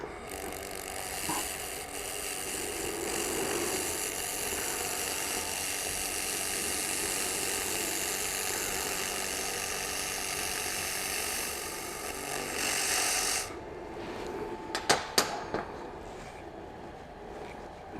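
An Xlaserlab X1 Pro laser welder runs in a garage fab setting, making a steady, fairly loud hiss and buzz for about thirteen seconds. It then cuts off, leaving a few sharp clicks and handling noises.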